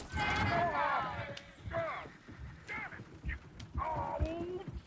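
Horses clop and whinny in the video game Red Dead Redemption 2 around a coach, with clear hoofbeats and voices speaking between and over them.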